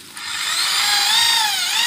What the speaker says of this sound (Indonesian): Setelah ketemu titik pertama, kita lakukan pengeboran pada jarak 10 cm